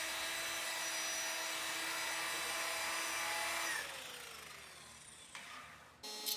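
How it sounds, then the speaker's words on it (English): A 40 grit sanding drum grinds over a laser-cleaned Toyota frame, a steady loud abrasive whir with no voices that winds down toward the end as the tool slows, followed by a brief clunk. "I went over the surface once again with the 40 grit drum"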